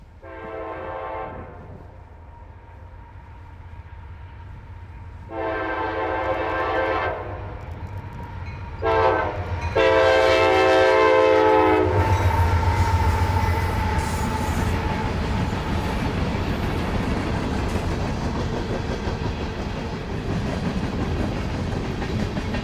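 A CSX freight train's horn blasts several times, rising to long loud blows as the train rolls past close by on a Georgia mountain railroad, wheels rumbling and clattering underneath.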